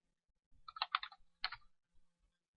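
Typing code on a computer keyboard, two short bursts of close key clicks with a pause between, quiet and alone with no talk.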